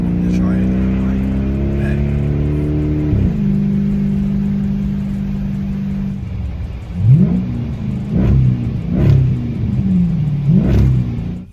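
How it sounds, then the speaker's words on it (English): A 2006 Dodge Charger SRT8 with a true dual Magnaflow 3-inch exhaust idles with a deep, steady drone, then gives several sharp revs that rise and fall close by. Background noise sits under the engine. "This is a True Dual Magnaflow 3-inch exhaust."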